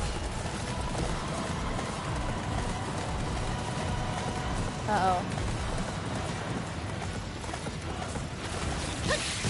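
Horse hooves clip-clop at a steady pace on the ground in the video game Attack on Titan 2, fairly faint, with someone talking briefly over them.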